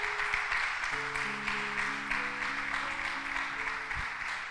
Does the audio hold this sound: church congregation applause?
yes